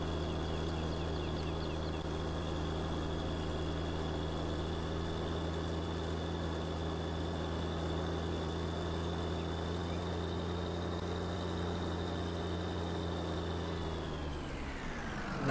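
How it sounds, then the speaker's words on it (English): A tractor pulls a cultivator in Farming Simulator 19 on PS4, its engine a steady loud drone held for a long stretch before winding down abruptly at the end, with no talk. "I'm not sure if this tractor can pull this cultivator or not."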